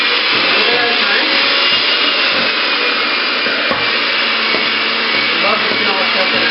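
An electric mixer runs at low speed through coconut batter, giving a steady, close, whirring motor drone with a faint rattle that continues unbroken throughout.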